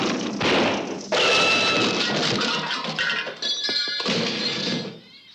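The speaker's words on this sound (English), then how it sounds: "Sounded to me like a safe falling on somebody, a gunshot, and a plane crash. Very loud twig." A loud, prolonged cartoon crash effect for a twig snap in the George of the Jungle animated series, a dense booming smash that rumbles and clatters for several seconds with no talk.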